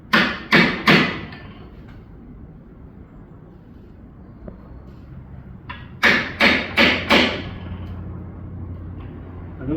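A mallet strikes a curved chisel carving wood, with three sharp close knocks, a quiet stretch of faint scraping, then a second cluster of five rapid knocks.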